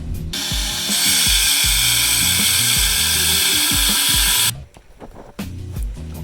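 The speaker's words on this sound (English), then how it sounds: "Gonna have to use an angle grinder now to cut my corner out." An angle grinder cuts the corner from a patio slab with a loud, harsh, sustained whine lasting about four seconds, then stops abruptly, leaving clattering and handling noise.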